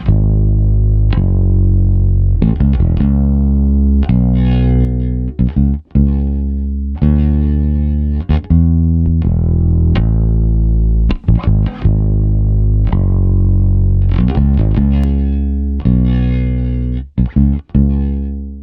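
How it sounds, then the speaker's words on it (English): A heavily distorted, gritty electronic tone from a Waves Magma Stressbox compressor plugin plays in sustained chopped bursts, loud and saturated throughout, with brief gaps between phrases. "It's gritty and dirty, and if you crank it you get some distortion."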